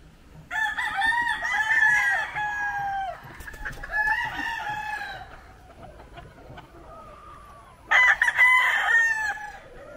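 Gamecock roosters crow on a farm in several loud, drawn-out calls, one after another, with some clucking and faint farmyard background between them and no speech.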